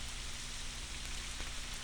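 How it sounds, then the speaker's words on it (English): Heavy rain pours steadily, a dense, continuous hiss of drops drumming on surfaces with no pauses. "It was raining hard,"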